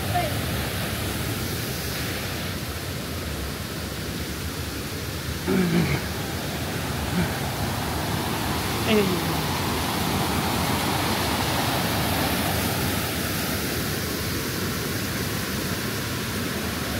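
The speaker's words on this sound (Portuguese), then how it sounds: "Olha para, para estas quedas d'água." Waterfalls cascading at Fervença, a steady broadband rushing roar that fills the whole stretch evenly, with a couple of faint footstep-like knocks and brief voices in the background.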